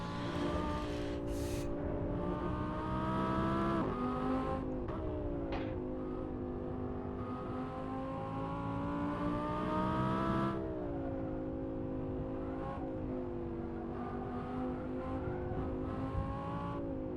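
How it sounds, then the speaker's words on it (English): An Audi R8 supercar lapping the Nordschleife in the racing game Assetto Corsa, its engine droning and revving continuously as it shifts through the gears, with tire noise and the sound of other cars around it. "It's an Audi R8, which is of course a sports car, or a supercar actually."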